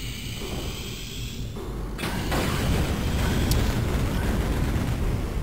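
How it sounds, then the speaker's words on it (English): Explosions in the Duke Nukem 3D video game, a quiet mechanical hum giving way to sudden blasts and a rumbling burst that lingers in the background. "there are a lot of explosions in that room"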